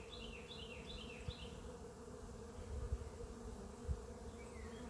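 Honeybees buzzing on a beehive frame during a colony inspection, a steady continuous hum with faint handling knocks now and then, no talking.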